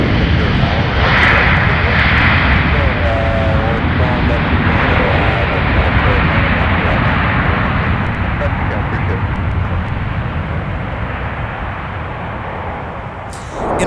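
Boeing 737 jet passing at Minneapolis–St. Paul airport, a loud, steady engine roar filling the whole stretch with a commentator talking over it.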